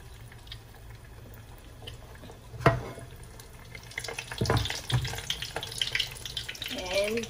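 A puri drops into hot oil with a soft thump, and a sizzling hiss then swells and crackles steadily, fairly close and moderately loud.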